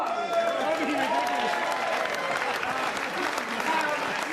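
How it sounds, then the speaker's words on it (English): An audience at a Cannonball sporting gathering gives a big round of applause for first-time participants, a broad steady wash of clapping and crowd noise with people talking and calling out over it. "Everybody, give them a big round of applause"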